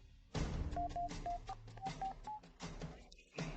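A telephone keypad is dialed in a tense drama scene, giving a quick run of short, evenly spaced beeping tones, fairly close and clear over a low background hum.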